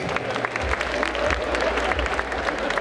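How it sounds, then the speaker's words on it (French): Audience applause at a cosplay contest award ceremony at Necronomi'con 2023: a dense, steady wash of clapping from a crowd, sustained and fairly close throughout. "Et on s'applaudit encore une fois bien fort."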